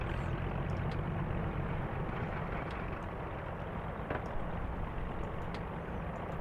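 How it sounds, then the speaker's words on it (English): Britten-Norman Islander aircraft's right piston engine running in the X-Plane flight simulator, a steady broadband drone with low rumble holding evenly throughout, no clear spool-up, alone without talk. "Let's start the right engine."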